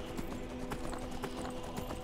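Horse hooves clip-clopping in the Skyrim video game as the horse heads down a mountain, a steady run of faint, muffled hoofbeats under a constant wash of background noise.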